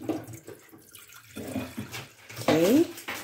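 Around 500 cc of water is poured into a cooking pot for a soup, giving a short splashing pour with a rising tone near the end, preceded by quieter kitchen noise.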